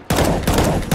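Loud rapid gunfire in the video game CS:GO, a dense burst of automatic shots with a brief break and renewed firing, close and harsh, without speech.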